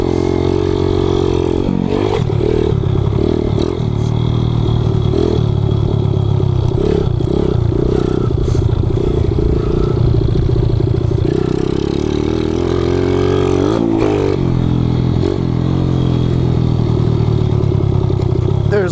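Kawasaki KLX 110 pit bike riding off-road, its small single-cylinder engine loud and close throughout, the revs rising and dropping as the throttle closes for engine braking, with rattling clatter from the bike.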